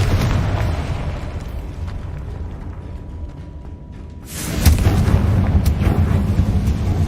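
A Confringo spell explodes in Hogwarts Legacy with a sudden booming blast that follows a low, steady rumble of game ambience, then leaves a loud, sustained roar.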